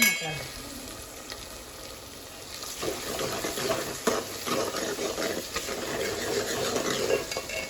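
Tadka for aloo matar curry, with potatoes, peas and ground tomato, sizzling in a pan as a spoon stirs, a spluttering hiss that swells louder partway through, close up and with no talking.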